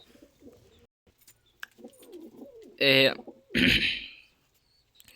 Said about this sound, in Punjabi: ਇਹ ਆ ਮਿੱਤਰੋ ਟੀਰਾ ਕਬੂਤਰ ਆਪਣਾ